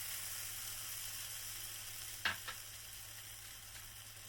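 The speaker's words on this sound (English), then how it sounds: "I like that sizzle." Thin keto tortilla batter sizzles quietly in an oiled pan, a faint steady hiss with a couple of brief scraping clicks midway, no talking.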